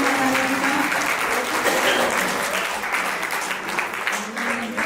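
An audience claps loudly at an Arya Samaj temple event, a dense, continuous burst of applause that stays close and strong throughout and tapers only slightly near the end.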